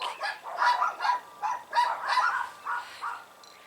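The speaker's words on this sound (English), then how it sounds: "damn barking dogs, we'll just have to put up with them." Dogs bark repeatedly at a distance in a steady series of short, sharp calls, with no speech over them, in a garden.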